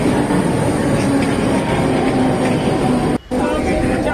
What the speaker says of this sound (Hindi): लीजिए आगे हमारी लोकल ट्रेन, और अब हम इसमें बैठकर जा रहे हैं